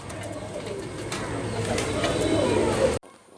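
Kamagar, Oman and Saki teddy pigeons, released in Kolkata, coo under a dense, steady wash of rustling noise that grows slightly louder before cutting off abruptly near the end.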